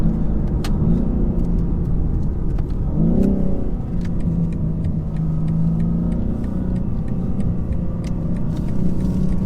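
A 2020 BMW M4 Competition pulls hard in third gear from inside the cabin, a loud, steady engine drone with a brief rising rev partway through and faint ticking clicks over the top.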